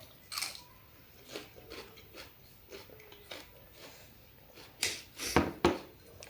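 Crisp crunching bites and chewing of raw capsicum, several irregular crunches close to the mic, growing louder and more frequent toward the end.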